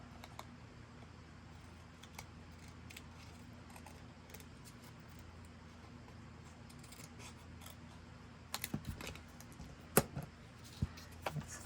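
Scissors trim a paper hinge for a small tunnel book. A quiet stretch gives way to a cluster of crisp snips near the end, close up and alone, with faint handling noise earlier.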